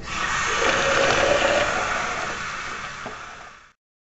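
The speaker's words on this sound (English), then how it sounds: "Then we're going to rinse, and I'm going to rinse again with lukewarm water." Lukewarm water runs steadily over human hair clip-in extensions during rinsing, a loud continuous gushing stream that swells slightly, then tapers and cuts off abruptly near the end.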